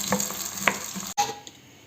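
Roughly chopped tomato, onion, ginger and garlic frying in oil, a close steady sizzle with a few stirring scrapes and a short break partway through, no speech.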